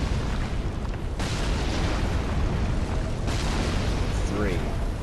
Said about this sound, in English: Let the ballista shoot.